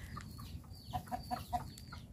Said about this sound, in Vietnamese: gà nó nghe nó la nó sợ